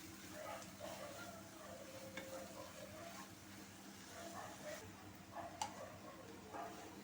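A spoon stirs a pizza topping mixture with mixed herbs and chili flakes in a pan, soft scraping and light sizzle with a few sharp ticks, quiet and close.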